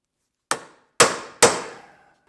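Three sharp metallic hammer blows on a BMW E36 car part, spaced about half a second apart, each ringing briefly before dying away.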